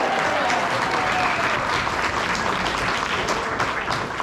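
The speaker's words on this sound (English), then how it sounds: "Let's give him a warm round of applause." A crowd at a veterans variety show breaks into loud, continuous applause for the master of ceremonies, a thick, even roar of clapping sustained from start to finish.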